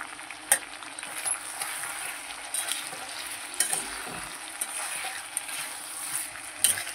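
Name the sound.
chicken curry masala with tomato being fried and stirred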